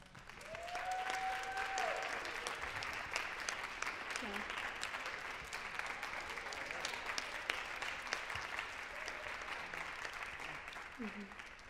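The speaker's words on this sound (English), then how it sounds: "let's all give them a round of applause" An audience gives a sustained round of applause for student story writers at a composer and choreography project event, many hands clapping steadily for about eleven seconds, with a few faint voices and brief tones underneath.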